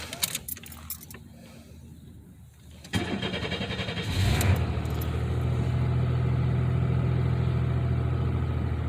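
A 1993 Chevy Lumina with a new exhaust starts outdoors: keys jangle briefly, then the engine cranks, catches and settles into a steady, moderately loud idle that continues to the end.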